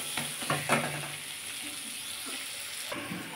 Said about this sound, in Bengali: আমি এবার এটাকে ভালো করে কষে নেব।